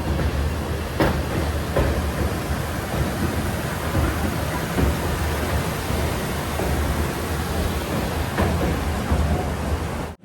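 Rumbling and rattling from the Gomteshwara Express on the Bengaluru to Mangaluru line as it runs downhill toward a small station, a continuous loud roar of wheels and carriages heard from on board, with occasional sharper clanks.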